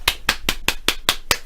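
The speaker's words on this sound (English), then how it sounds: "She's clapping like a child." A woman claps her hands in a steady, brisk rhythm, seven sharp close claps evenly spaced about a fifth of a second apart, heard alone without talk.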